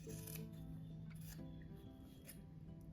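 Scissors snipping through fabric along a marked line for an oval egg-themed rug, with close, steady rasping cuts and soft rubbing over a constant low hum.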